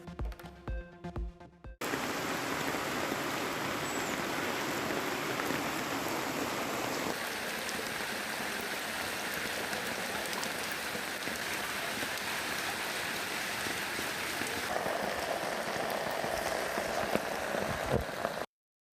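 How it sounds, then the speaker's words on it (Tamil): Steady heavy rain pours in Kodaikanal, Dindigul district, with runoff rushing along the roads; a dense, continuous hiss holds from start to finish after a brief quieter opening, and no voices are heard. "கொடைக்கானலில் பெய்த மழை காரணமாக சாலைகளில் பெருக்கெடுத்து ஓடும் தண்ணீர்"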